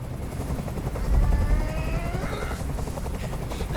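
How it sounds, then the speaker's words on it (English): A helicopter drones steadily in the Detroit: Become Human video game, a loud continuous rotor chop with low rumble throughout, no talking over it. "I can't stand that noise anymore. Tell that helicopter to get out of here."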